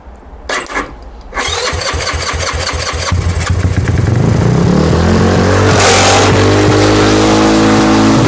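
Honda Ruckus scooter that has not run for years, started by bypassing the starter relay: a few sharp cranking bursts, then the small engine catches and runs loud and close, revving up and settling into a steady hum.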